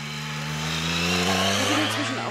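Motorcycle engines drone steadily while riding up the Gavia alpine pass, a low sustained hum that swells into higher revving whines toward the end, fairly close and continuous, with no talk.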